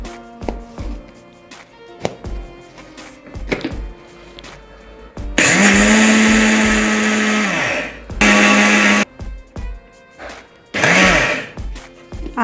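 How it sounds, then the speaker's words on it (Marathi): A mixer grinder whirs loudly as it grinds sesame seeds for til ladoo, running in three bursts of a few seconds each. Softer tapping and handling sounds come between the bursts. "तर अगोदर आपण तीळ बारीक करून घेऊ."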